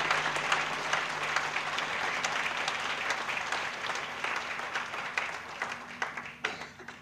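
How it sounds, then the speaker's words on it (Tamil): Sustained applause from an audience at a Bharatanatyam dance debut, a thick steady burst of many hands clapping that gradually thins toward the end into a few scattered claps, with no speech over it. "உன்னுடைய உழைப்புக்கும் முயற்சிக்கும் ஒரு பலத்த கரகோஷத்தை நான் என் பரிசாக உனக்கு வாங்கி தருகிறேன்"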